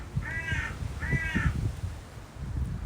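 A magpie calls nearby with two harsh, drawn-out rasping notes about half a second apart, over a low outdoor rumble and faint knocking.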